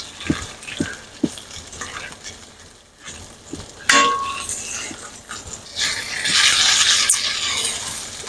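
Beef for carne guisada sears in oil in a pan, with a sizzle that swells louder toward the end, punctuated by sharp clanks of a utensil against the pan and a few light knocks.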